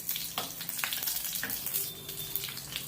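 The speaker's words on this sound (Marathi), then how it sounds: "इथे मी चांगलं तूप फोडणीसाठी घेतलेलं आहे, त्यामध्ये आपण जिरे टाकूया" Cumin seeds sizzle in hot ghee as a tempering for a fasting-day recipe, a close, crackling hiss with small popping bursts throughout; no voices.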